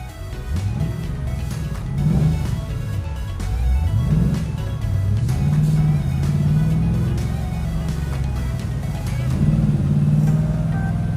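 A 1966 Pontiac GTO drives on a street. Its deep engine drone is loud and close, rising and falling in pitch as it accelerates and shifts, and runs continuously under the cabin.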